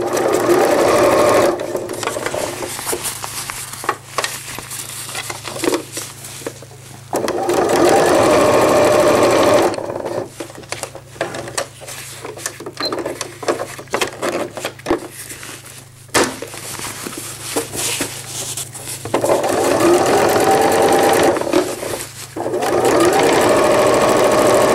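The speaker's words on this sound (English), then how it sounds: "sew it down." A sewing machine top-stitches a zippered wetbag, running in several loud, steady bursts separated by brief pauses, with no talking.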